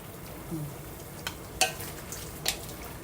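Potatoes are stirred into pork adobo in a pan: a low simmering sizzle underneath, with a few sharp scraping clatters of the spoon against the pan, two of them louder, and no talking.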